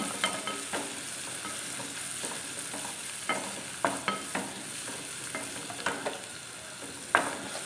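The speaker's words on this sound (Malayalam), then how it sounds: "ഈ ചുവന്നുള്ളി ഈ വെളുത്തുള്ളിയും കൂടെ നന്നായിട്ടൊന്ന് മൂപ്പിച്ചെടുത്ത് ഒത്തിരി നല്ലപോലെ ഒന്ന് മൂപ്പിച്ചെടുക്കാം" Shallots and garlic fry in oil with a steady crackling sizzle, punctuated by repeated sharp scrapes and taps of a spoon stirring the pan at close range.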